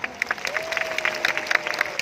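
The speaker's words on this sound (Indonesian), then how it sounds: "Saya minta tepuk tangan untuk kejaksaan." A gathering at a religious study event for Pasuruan's anniversary claps for the prosecutor's office, light scattered applause with distinct individual claps and a faint sustained tone underneath.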